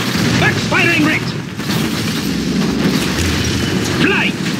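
Gunfire and explosions from the Red Alert 3 strategy game blend into a dense, loud battle din of continuous booms and rumble, with brief voice snippets cutting through.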